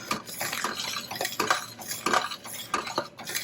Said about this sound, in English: we just stir this. You just do not want this to burn on the bottom, so you've got to constantly stir it